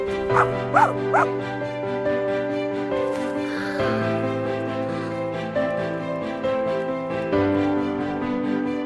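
A cartoon dog barks and yips a few times early on, followed by music with tonal, whimpering sounds.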